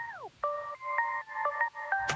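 A second synth pluck preset from a self-made sound bank, built as a lead for a future house remix. A falling glide opens, then several short plucked notes in a steady pattern, closing on a brighter hit, clear and without voices.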